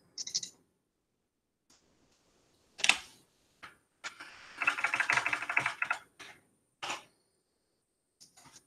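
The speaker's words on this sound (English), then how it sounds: "I am struggling with my typing today" Someone types on a computer keyboard in scattered bursts of clicking keys, sometimes single taps and sometimes a quick run, close and fairly quiet with silent gaps between.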